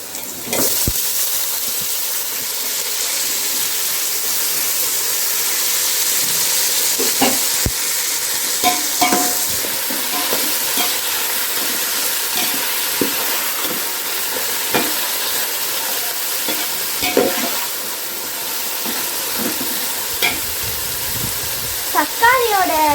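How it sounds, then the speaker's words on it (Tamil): Onions and tomato sautéing in a pan for chicken biryani, giving a continuous loud sizzle with periodic scraping stir strokes and a voice speaking at times. "வெங்காயத்தை வந்து பொன்னிறமாக வதக்கிக்கணும்"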